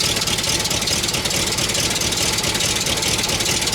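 A 350 engine idles with exhaust blowing out of cut smog pump tubes, giving a steady close-up rumble with a hissing, puffing edge throughout and no voices.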